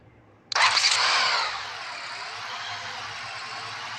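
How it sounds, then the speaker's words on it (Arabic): A car engine with its coolant temperature sensor disconnected cranks briefly and catches with a sharp loud surge, revving high for about a second before dropping to a steady, quieter idle. "وهنعلي صوت الموتور ونشوف التشغيل بتاع السياره"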